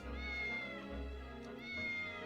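A cat meows close and clear in two long, drawn-out, wavering cries with a brief pause between them, alone with no talk.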